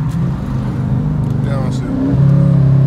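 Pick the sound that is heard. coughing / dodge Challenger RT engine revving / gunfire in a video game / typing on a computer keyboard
dodge Challenger RT engine revving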